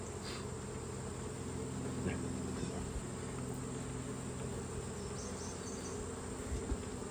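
Honeybees swarm around a hive being split, making a dense, continuous buzz that stays close and steady throughout with a faint hum beneath, and no talking.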